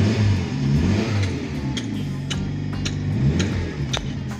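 A car engine idles steadily after being started with a newly coded key, a low continuous rumble with regular ticking clicks over the top, loud and close, without talk.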